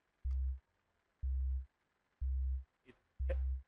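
A thin bass with its low end filtered off plays four short, evenly spaced notes, sounding hollow and pure against near silence, with a faint click between the last two.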